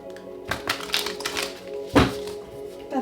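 Tarot cards being shuffled in a few quick, papery riffling bursts, close and fairly soft, ending in a sharper snap of the deck near the end.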